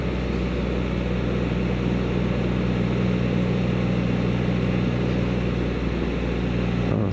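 A Can-Am Spyder three-wheeler drones steadily as it cruises along an autumn road, its engine hum mixed with constant wind rush and no talking.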